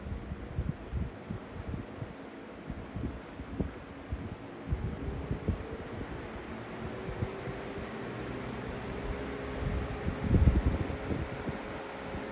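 Lasko box fans, blue Cool Colors models of first and second generation, run on low with a soft, steady whooshing airflow and a faint motor hum, close and continuous, with light bumps and rustles over it.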